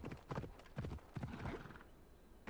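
Horse hooves in the video game Assassin's Creed Odyssey clip-clop in a quick, uneven gallop rhythm, fairly quiet, with a horse whinny mixed in and a final hoofbeat after a short pause.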